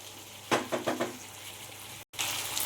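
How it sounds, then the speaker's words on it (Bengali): Chicken browning in a pan for bhuna chicken gives a soft sizzle with a few stirring scrapes and clatters in quick succession, then a low steady fry. "এবার আমি একটু চিকেনটাকে লাল লাল করে একটু ভাজা ভাজা করে নেব।"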